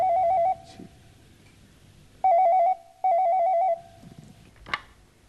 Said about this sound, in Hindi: देखो तो किसका फोन।